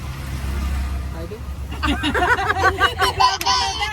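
Low engine rumble of an auto rickshaw, close up from inside during a ride, then voices chatter over the vehicle noise as the ride continues.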